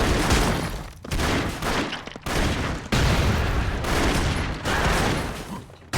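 Loud, sustained gunfire and booming explosions from the side-scrolling action game Broforce, dense and chaotic with brief gaps between heavy bursts.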